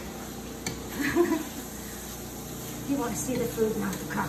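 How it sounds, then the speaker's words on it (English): Potatoes frying in a pan make a soft, steady sizzle beneath a person talking, with a few light stirring scrapes against the pan. "as you hear, our potatoes are frying up"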